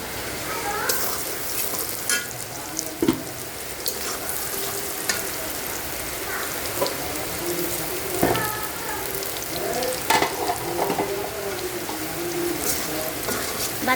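Chicken pieces frying in plenty of hot oil, a dense continuous sizzle close up with scattered sharp pops and stirring scrapes, with rain falling outdoors mixed in.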